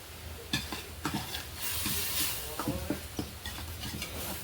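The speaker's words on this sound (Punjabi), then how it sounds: "ਹੁਣ ਇਹਨਾਂ ਨੂੰ ਮਸਾਲਿਆਂ ਨੂੰ ਚੰਗੀ ਤਰ੍ਹਾਂ ਭੁੰਨ ਲਾਂਗੇ" Spices being stirred and roasted in a pan for a bottle gourd (ghiya) curry, with repeated scraping stirs over a steady soft sizzle, close and moderately quiet.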